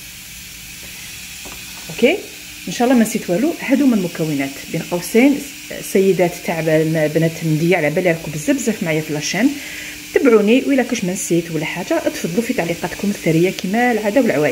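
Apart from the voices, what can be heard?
pressure cooker hissing on the stove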